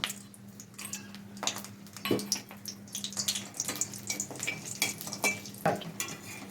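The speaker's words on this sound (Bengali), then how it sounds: "তেল গরম হয়ে গেছে, এবার আমি বড়িগুলো ভেজে নেব" Lentil dumplings fry in mustard oil in a kadai, giving a crackling sizzle broken by irregular clinks and scrapes of a utensil against the pan, moderately close.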